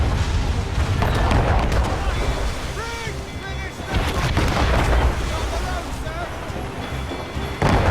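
Naval cannon fire rolls through a sea battle in Assassin's Creed Rogue, deep booms mixed with crashing waves, wind and creaking ship noise, loud and continuous while voices shout over the din.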